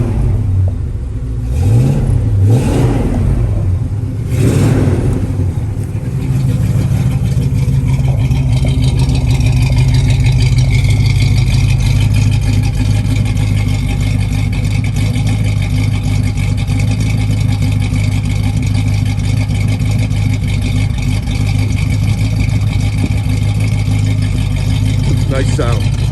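A 1968 Pontiac Firebird engine cranks a few times, catches, then settles into a loud, steady, rumbling idle that carries on at close range.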